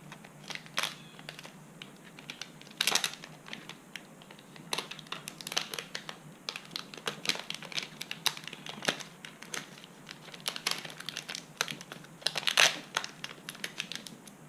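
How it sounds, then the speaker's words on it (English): Clear packing tape wrapped around a wire coil makes irregular crinkling and crackling, with sharp sticky peels and rustles scattered close and fairly quiet over the whole stretch. "Some more clear tape, packing tape, and I'll just put that back here in the coil."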